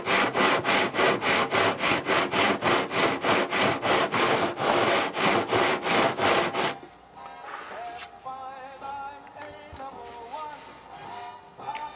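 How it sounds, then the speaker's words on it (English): A long sanding block rubs back and forth along a wooden trailing edge of a Stuka model wing, a loud steady rasping stroke repeating about twice a second for nearly seven seconds, then quieter handling sounds. "the idea is to use the longest sanding block possible to get a nice true edge on the trailing edge"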